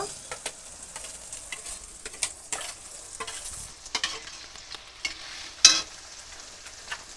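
A ground paste of ginger, cumin, onion, garlic and chili fries in a pan for a chicken dish, a soft sizzle broken by scattered spatula scrapes and taps, one sharper clack near the end.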